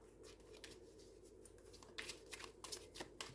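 Tarot cards being shuffled and cut by hand, a soft papery riffle and flutter that thickens into several crisp, close bursts near the end, with no talking.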